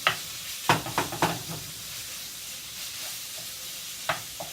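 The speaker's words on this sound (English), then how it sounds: "we cook the pork like this until it's brown" Pork browning in a hot pan sizzles steadily, broken by several sharp scrapes and stirs early on and another near the end, close and fairly quiet.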